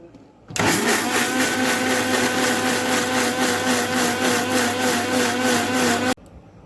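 A mixer grinder grinds mustard seeds, garlic and green chilies into a fine paste, a loud steady motor whine with grinding texture running continuously for about six seconds, then cutting off abruptly.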